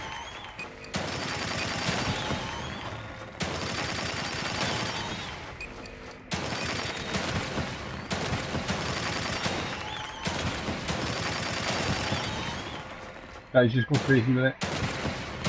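Video game gunfire from The Evil Within 2 at its shooting range, with dense bursts of rapid shots filling most of the stretch, broken by short pauses, while someone talks over the shooting.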